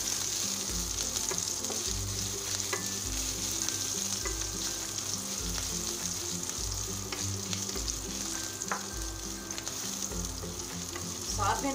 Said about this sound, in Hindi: तेल गर्म हो गया, इसमें डाल देंगे हाफ टी स्पून जीरा